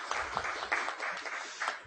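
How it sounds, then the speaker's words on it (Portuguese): A crowd at a public hearing gives a short round of applause, many hands clapping in a faint, dense patter that lasts a couple of seconds. "Salva de palmas."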